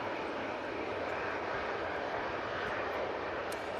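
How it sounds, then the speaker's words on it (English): Ryanair Boeing 737-800 on its takeoff roll at Manchester in stormy weather, a continuous broad roar of jet engines at full power, steady and fairly close, with some wind noise mixed in. "now on the roll. Off to Gothenburg"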